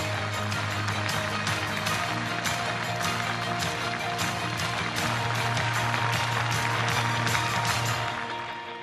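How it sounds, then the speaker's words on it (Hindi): Crowd applause at a women's self-help groups conference in Karahal, Madhya Pradesh, a dense, sustained clapping from a large audience that fades slightly at the end. "आइए जोरदार ताली से अभिनंदन करें,"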